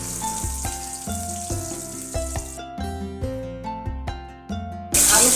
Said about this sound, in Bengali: আলুগুলোকে এভাবে ছোটো ছোটো করে কেটে এগুলো ভেজে নেব।